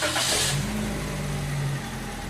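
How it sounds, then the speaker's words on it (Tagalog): A Toyota Vios engine turns over and settles into a steady mid-pitched idle, loud and close, humming evenly without voices after a brief initial burst. "Kaya pa-start ko na itong makina."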